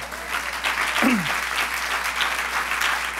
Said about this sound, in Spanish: Denle el aplauso al Reñón.